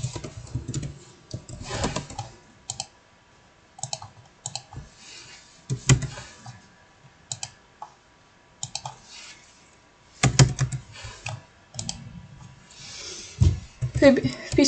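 Light clicks of a computer keyboard come in short irregular bursts as a name is typed, close and fairly quiet, with someone speaking Polish over and between the keystrokes.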